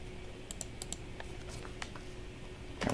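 Computer keyboard keys being pressed while entering a spreadsheet formula: a handful of quick, light, fairly close clicks spread irregularly across the moment, ending in a slightly firmer keystroke.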